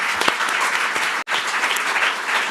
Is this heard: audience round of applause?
yes